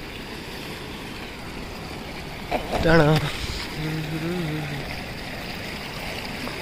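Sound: flowing river water

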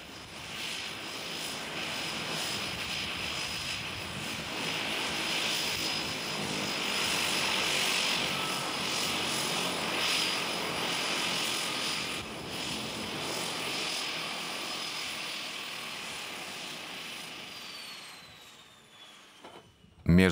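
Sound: small airplane flying between Mahé and Praslin, Seychelles

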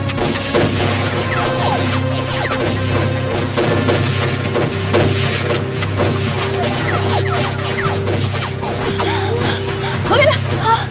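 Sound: gunfire volley in a martial arts film

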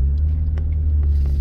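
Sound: restored car driving, Project Christine

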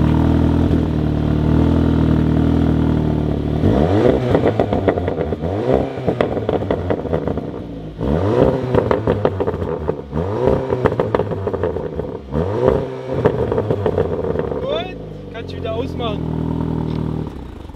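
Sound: Audi TT 8S engine revving while stationary, exhaust pops

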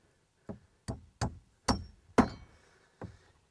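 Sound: hammering nails through wood block into stud

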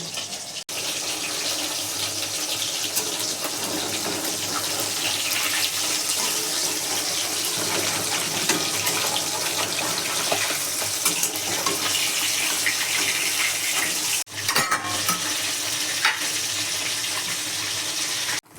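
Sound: bhola fish frying in oil

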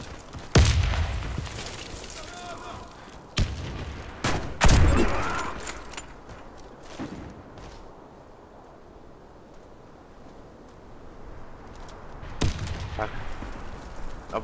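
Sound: grenade explosion and gunfire in the video game Warface

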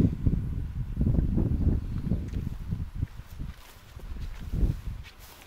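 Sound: wind in the Alps

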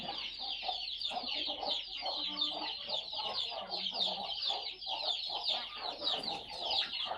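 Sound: chickens clucking on poultry farm

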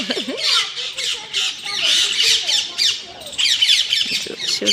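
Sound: parrots squawking outdoors

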